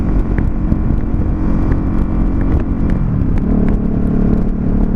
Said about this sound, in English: This bike is not quite broken in yet, so we won't go too crazy, but we'll give it a little few revs.